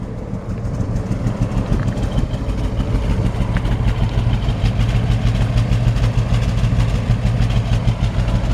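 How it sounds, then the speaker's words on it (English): A 1957 GMC 100 pickup truck engine idles steadily with a low, even rumble and a quiet exhaust, continuous and close throughout. "Nice healthy sounding engine."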